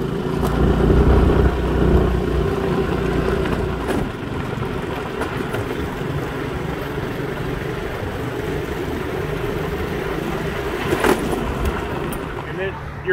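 A car cruises along rural gravel roads, with a steady engine and road rumble heard from inside and occasional crunching from the tires.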